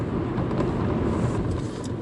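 A Mercedes-Benz C180 pulls away after its start-stop system restarts the engine, giving a steady, close, low engine and road rumble that holds level throughout, with no talk over it.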